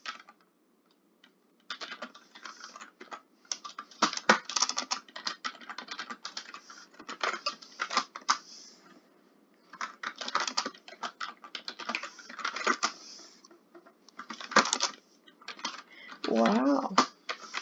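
A computer keyboard is typed on in quick bursts of close, crisp key clicks separated by brief pauses, with a voice speaking briefly near the end.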